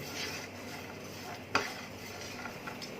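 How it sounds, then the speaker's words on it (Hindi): A metal ladle stirs dry spices roasting in a pan for an Andhra-style stuffed brinjal curry. It makes a faint, steady scraping with one sharper metallic clink partway through, and no voices. "कड़छी लगातार चलाएंगे और सब तरफ से, ताकि मसाले रोस्ट हो जाएं"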